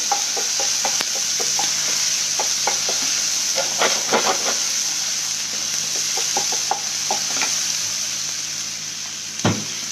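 Nellore brinjal fry with ginger garlic paste frying in oil, a constant close sizzle with repeated soft stirring scrapes and taps from a spatula, ending with a louder knock, no voices.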